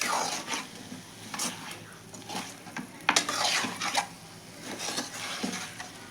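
Spicy fish fry is stirred in a pan, with a spoon scraping and clinking in irregular strokes over a soft sizzle, close and moderately loud, while a voice talks faintly at times.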